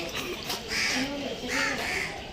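A crow caws twice nearby, harsh and hoarse, with people talking around it.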